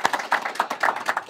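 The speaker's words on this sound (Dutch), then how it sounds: "Hartelijk applaus." Handclaps in a small local studio, a short burst of distinct claps from a modest audience, fairly close and lively with no talk over it.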